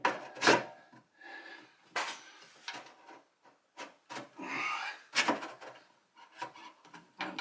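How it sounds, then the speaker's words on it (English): Plastic cap being screwed onto a vehicle's water/ice tank during a leak repair, heard as close, intermittent rubbing and rasping twists in short bursts with brief pauses, no talk. "Now I'm going to put the cap on and hope that it doesn't leak again."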